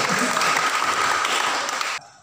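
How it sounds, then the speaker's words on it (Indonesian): Short burst of applause in a classroom lesson, dense clapping for about two seconds that cuts off abruptly. "kasih tepuk tangan untuk Mas Ibnu."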